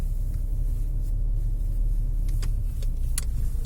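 A car drives between parking lots at an animal shelter, heard from inside as a steady low road and engine rumble with a few faint clicks and knocks, no talk.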